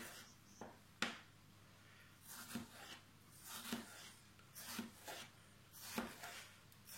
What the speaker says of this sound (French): on va commencer à couper les pommes. L'idée c'est de couper des fines lamelles.